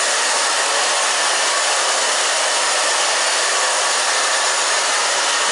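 A hair dryer runs steadily at close range, drying a thin pixie haircut during styling, with a constant loud airy roar and no talking.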